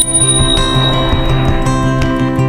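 An integrated bell on a Blix Aveny electric bike rings loud and close, a bright sustained metallic tone with repeated strikes layered over a steady ringing hum.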